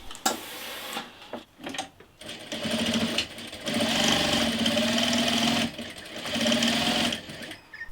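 A sewing machine stitching the back crotch seam of patchwork jeans runs in several bursts of steady whirring and rapid needle ticking, stopping and starting between runs, close and clear.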